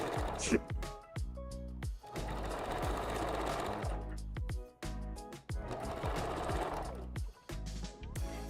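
A sewing machine stitches a red ombre closure wig in fast, steady mechanical bursts, stopping briefly between runs and then starting again, with a voice talking over it.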